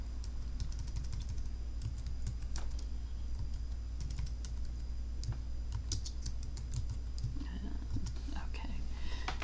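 Computer keyboard keys clatter in quick irregular bursts while HTML code is typed, soft close clicks over a low steady background hum, with faint murmured speech in places.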